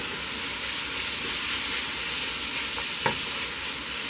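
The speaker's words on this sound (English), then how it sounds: "We're going to get this all mixed in together." Minced garlic sizzles and hisses steadily in a hot pan while being stirred, with one brief scrape of a spoon near the end.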